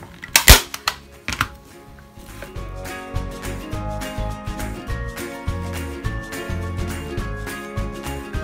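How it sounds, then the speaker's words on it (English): A staple gun fixing screen-printing fabric to a frame: one sharp loud snap early, another smaller one, then a busy run of clicks, rattles and thumps from the stretching and stapling work, no talk. "pulling that fabric tight and attaching it with the staple gun"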